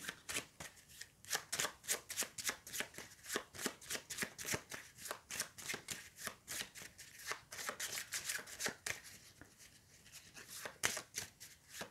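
A deck of cards being shuffled for the board game Heat, a rapid close riffling flutter of crisp card clicks repeating steadily throughout, quiet and alone with no talking.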